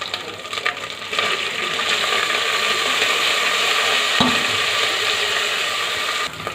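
Chillies, ginger garlic paste and mint sizzle in a pan for a biryani, giving a steady, fairly loud frying hiss throughout with a few small clinks and scrapes.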